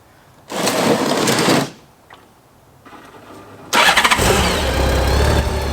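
Honda Goldwing motorcycle engine turned over by its starter in short loud cranking bursts, then firing and settling into a steady close running drone.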